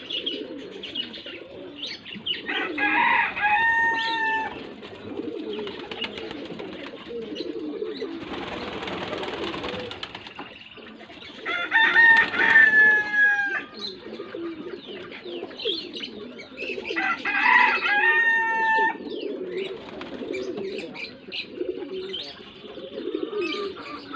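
Pigeons coo in soft repeated phrases, with chirps and brief wing flaps mixed in, steady and fairly close throughout.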